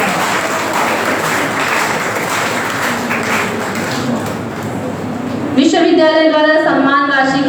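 Applause fills a university auditorium at a national seminar as an honoree receives a shawl, a broad steady clapping roar that persists before a voice begins speaking over it near the end.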